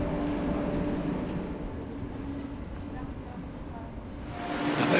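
NS Intercity VIRM double-deck train arriving at Zwolle at the end of its run from Arnhem, a steady low interior rumble and rolling noise that swells toward the end.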